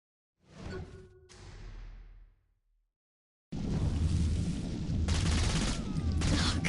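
Flaming-bullet gunfire in the video game Saints Row 4: a short burst of shots with a whooshing tail fades to silence, then a loud, sustained, dense volley of rapid fire continues to the end.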